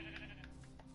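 Sheep bleating in a survival video game, a single short, faint bleat with a wavering tone.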